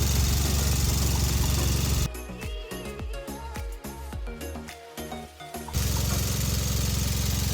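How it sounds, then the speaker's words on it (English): A Hyundai Veloster Turbo engine, its misfire just fixed, idles with a steady, even drone at the start and end, with a quieter, more tonal stretch in between. "But look at the engine, how smooth it is now"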